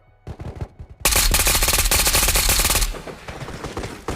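AS-VAL suppressed rifle in a shooter video game, a long rapid burst of automatic fire after a few short shots, loud and close, trailing off into quieter echoes.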